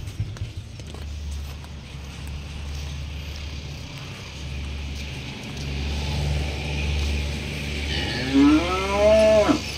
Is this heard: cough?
no